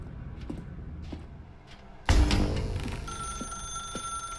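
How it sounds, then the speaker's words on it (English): A telephone in The Stanley Parable video game sounds with a sudden loud clatter, then a sustained bright electronic ring rising over a quiet room with a few soft thuds. "Now pick up the phone."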